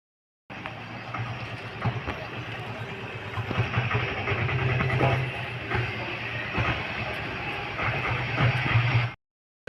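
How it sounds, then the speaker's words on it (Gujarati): A steady rumble of a train idling at Dwarka railway station, with a low engine hum and occasional clanks and murmurs nearby. "અત્યારે હાલ અમે આ રેલવે સ્ટેશને આવી ગયા છીએ"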